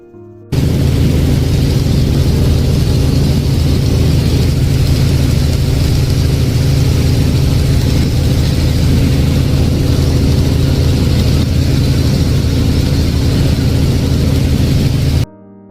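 A tour helicopter flies over the Milwaukee skyline, heard from inside as a loud, steady, close engine and rotor drone that holds unbroken for the whole stretch.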